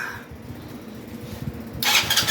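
A Chinese 110cc engine with the choke on turns over and catches, rising from a low rumble to a louder, steadier running sound near the end, with no one talking.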